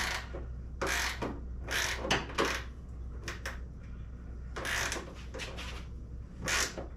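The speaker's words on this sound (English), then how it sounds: "So I'm just tightening this up." Fender hardware on a Datsun 510 being tightened by hand: a series of short metallic clicks and ratcheting bursts in irregular groups, close and moderately loud, with no talking.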